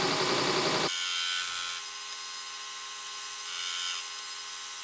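Belt grinder working a metal part's inside corner on the top wheel of a platen attachment, starting with a brief harsh burst of grinding, then settling into a steady, fairly loud whirring hiss with slight swells.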